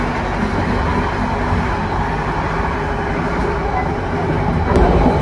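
Steady low rumble and rattle of a moving Indonesian luxury compartment-suite passenger train, Gambir to Cirebon, heard from inside the carriage, continuous and even throughout.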